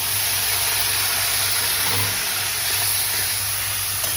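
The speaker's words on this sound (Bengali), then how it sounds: "এর মধ্যে আমি পেঁয়াজ কুচি দিয়ে দিলাম" Chopped onion frying with mustard seeds and ginger in a wok, a dense steady hiss of sizzling oil, loud and close, running unbroken over a low background hum.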